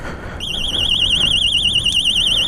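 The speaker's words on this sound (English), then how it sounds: "Well, the alarm's going to start going off." A Xena disc lock alarm on a motorbike sounds a loud, close, warbling electronic siren that starts abruptly and keeps wavering steadily.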